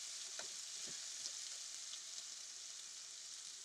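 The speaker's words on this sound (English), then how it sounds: "now I am going to use this pan to make a loud sizzle" Chicken sizzles and crackles in a hot frying pan, a steady hiss with a few soft pops, heard alone.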